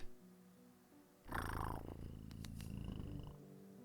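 Cat purring in the video game Wicked Willow, a steady low rumble that starts abruptly partway through and runs close and continuous for a couple of seconds before fading, with faint background hum before it.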